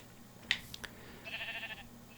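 A sheep in a video game bleats in a short wavering call after a few brief clicks, faint and alone over a quiet background.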